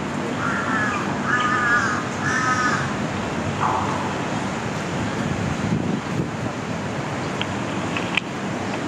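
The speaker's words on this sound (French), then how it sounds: "On entend que les oiseaux" Crows caw in short bursts of repeated calls over steady wind and distant surf-like noise in a park in Thailand, then the calls fade into the wind.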